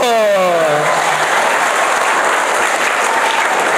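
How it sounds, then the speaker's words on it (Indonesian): A church congregation bursts into steady, dense applause filling the room, loud and close throughout, with a speaking voice fading out at the very start. "Tepuk tangan dulu."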